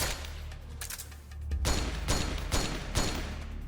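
Gunfire from the video game Metal Gear Solid 4, a string of sharp shots and short bursts, some closely spaced, over a dense background of game noise.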